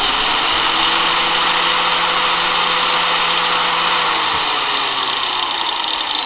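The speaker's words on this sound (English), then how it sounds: "That grinder's a little bit more power hungry than the other tools we tried" An angle grinder runs steadily off a portable power station, giving a loud continuous high whine with an even roar that shifts slightly in pitch partway through, with no talking.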